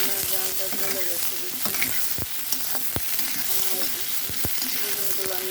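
Eggplant pieces fry in a pan seasoned with light salt and turmeric, a steady close sizzle with occasional clicks and stirring scrapes throughout, no talking.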